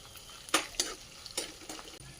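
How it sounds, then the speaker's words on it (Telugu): Mustard seeds, cumin, peanuts and green chillies fry in oil for a poha chivda snack, a low sizzle with a few distinct spoon scrapes against the pan, near and brief. "ఫస్ట్ మనం ఆవాలు, దాని తర్వాత జీలకర్ర, పల్లీలు, పచ్చిమిరపకాయలు వేసుకొని, తర్వాత ఎండుమిరపకాయలు"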